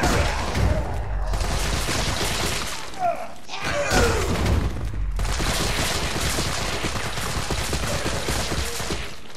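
Infinite CQBR assault rifle in Resident Evil 3 Remake firing in sustained rapid automatic bursts, loud and dense, broken by two short pauses with thuds and debris between strings of shots.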